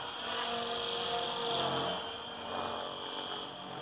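Radio-controlled helicopter hovering, a steady whining rotor and motor drone with a bright high tone, fairly close and constant with slight swells in loudness, no talking.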